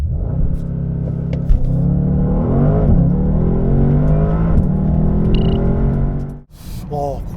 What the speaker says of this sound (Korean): 컨티넨탈 GT 과연 발진 가속 성능 얼마나 나오는지 볼까요?